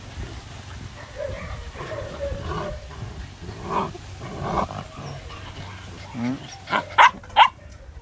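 Three-month-old Belgian Malinois puppies barking, scattered yelps and short barks building into a few sharp, loud barks near the end, with people talking underneath.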